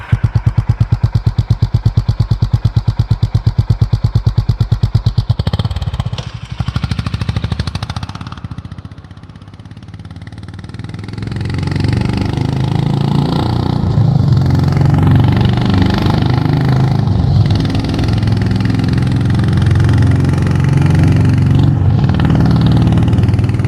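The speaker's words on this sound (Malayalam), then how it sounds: "പിന്നെ പറയേണ്ട ഒരു കാര്യം ഈ വണ്ടിയുടെ എക്സോസ്റ്റ് തന്നെയാണ്. അത് ഞാൻ പറയുന്നില്ല, നിങ്ങൾ തന്നെ ഒന്ന് കേട്ടു നോക്കൂ." A Honda H'ness CB350 motorcycle exhaust, a loud, close, rhythmic thumping idle that swells into revving and then a sustained, rumbling engine roar, with no talking.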